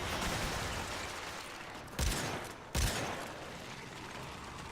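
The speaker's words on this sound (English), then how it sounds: "Wait, was it a shot from up here?" Two sharp gunshots in the Warframe video game ring out about a second apart, each a broadband crack rising above a constant dense roar of in-game noise, with no talking.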